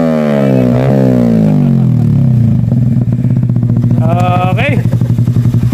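A Yamaha R15 motorcycle engine revs hard on a winding road through natural scenery, rising and falling in pitch in loud, close sweeps, with a voice talking over it.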